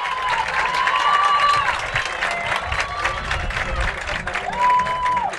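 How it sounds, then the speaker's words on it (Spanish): Applause pouring down from the stands at a football league final after a minute of silence, a dense crowd clapping steadily for several seconds with faint cheering mixed in. "luego del minuto de silencio, los aplausos que bajan de la tribuna"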